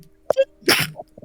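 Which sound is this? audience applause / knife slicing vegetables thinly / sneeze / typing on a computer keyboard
sneeze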